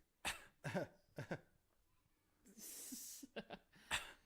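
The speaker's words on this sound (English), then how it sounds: "Of course, fake coughing" Several short, deliberate coughs and throat-clearing sounds come in bursts, with a breathy exhale partway through; the coughs sound forced.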